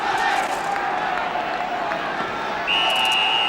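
A football stadium crowd murmurs steadily while waiting for kick-off at Crystal Palace against Middlesbrough, a broad, continuous roar of distant voices, with a sustained whistle-like tone rising near the end.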